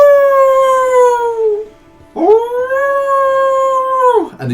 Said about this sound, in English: Outside of the tavern, you hear two large